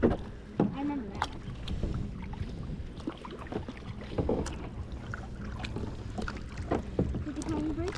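A kayak paddled on water near Turtle Island: soft irregular paddle splashes and dripping close by, with wind buffeting the microphone and brief voices in between.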